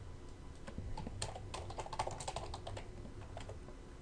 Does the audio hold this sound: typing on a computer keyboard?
yes